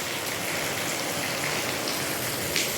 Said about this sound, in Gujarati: તો વરસાદની અંદર અત્યારે શૂટિંગ થઈ રહ્યું છે ચાલુ વરસાદે.